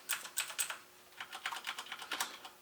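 Quick, light clacks of typing on a Corsair Strafe mechanical keyboard with Cherry MX Brown switches, a faint, close burst of keystrokes with a short pause in the middle.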